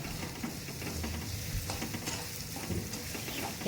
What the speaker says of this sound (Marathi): हे बघा आता मी त्याच्यात कांदा टाकून घेते